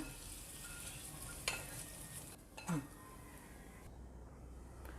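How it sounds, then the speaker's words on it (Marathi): Hot oil tempering sizzles quietly as it is poured over potatoes and a spoon scrapes and stirs in a pan, with a couple of brief clinks, faint overall. "आता ही फोडणी मी घालते"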